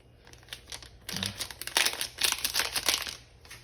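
A plastic packet of garlic powder is torn and crinkled open in a home kitchen, with close, irregular rustling and crackling bursts that grow louder in the second half.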